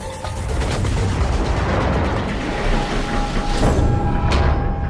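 USS North Carolina battleship guns firing shells in World of Warships, a dense, rumbling wash of booming artillery and blasts that runs continuously, loud and close.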